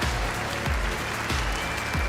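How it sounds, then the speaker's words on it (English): Dense, continuous audience applause fills a large arena at the Clash Royale League World Finals esports event, steady and loud throughout with low rumbling underneath. "Please, let's get a round of applause for this production team"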